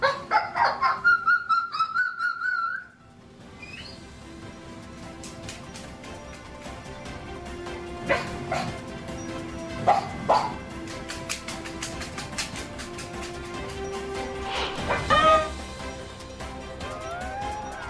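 A parrot mimics a dog's barking, giving a run of sharp, rhythmic harmonic calls at first, then scattered bark-like squawks and bursts, close and moderately loud with some background noise.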